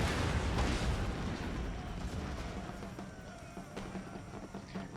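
Artillery firing during a video game battle against British forces: dense, rumbling low booms and crackling bursts, loudest at the start and easing slightly, layered over a continuous battlefield din.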